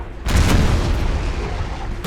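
A single loud cannon boom in the Prussian strategy game Imperial Splendour, a sharp blast that rolls into a long rumbling tail of battlefield noise.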